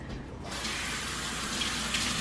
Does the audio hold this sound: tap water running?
yes